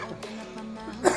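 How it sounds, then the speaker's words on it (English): A single short cough from a man on a gaming livestream, close to the microphone and moderately loud, over a faint background hum. "Sorry, boys, for the cough."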